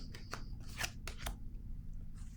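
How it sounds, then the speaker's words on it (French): A tarot card is set down on a table with a few short, crisp taps and rustles, close by and quiet, over a low steady background hum. "Je vais déposer une carte ici par curiosité."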